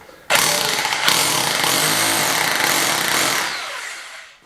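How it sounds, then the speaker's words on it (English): A power hole cutter bores a neat round hole for a socket during home renovation, starting abruptly and holding a loud, steady whining grind for about three seconds before spinning down. "The reason for using a hole cutter, I've got a nice neat hole that my socket will cover"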